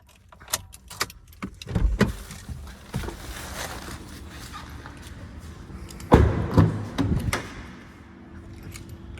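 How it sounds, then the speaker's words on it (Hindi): A Maruti Fronx Delta Plus car being closed up, with clicks, rattles and a couple of solid thumps from its doors shutting nearby, sounding in short irregular bursts with no talking. "गाड़ी को सबसे पहले अपन यहाँ से करते हैं बंद।"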